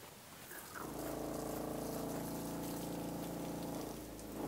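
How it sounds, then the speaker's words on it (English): Water pump of a 1999 Pace Arrow 37S motorhome feeding its outside shower kicks on after a brief pause and runs with a steady droning hum under rushing water, close and alone. "It's got a water pump button here. I just turned on."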